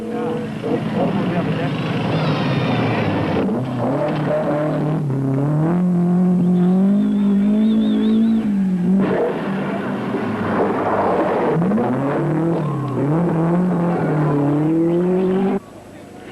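A Datsun Stanza rally car on the 1978 Southern Cross International Rally revs hard, its engine note rising and falling through gear changes, loud and close, with a voice talking over it.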